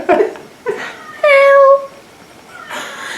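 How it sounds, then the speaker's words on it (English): A house cat gives a few meows close by: a short chirp, a brief call, then one long, clear, loud meow, and a softer sound at the end, over quiet room tone. "The cat."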